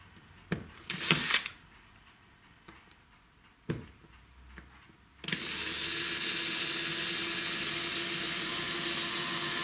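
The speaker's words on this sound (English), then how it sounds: "Try and drill a little bit more carefully." A small power drill bores out a rivet on a Tri-ang Super 4 model railway diamond crossing, starting after a few light clicks and handling taps and then whirring steadily and close for several seconds.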